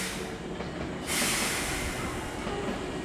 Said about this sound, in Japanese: 通勤客を満載した列車は、爆音を轟かせながらカーブを曲がります。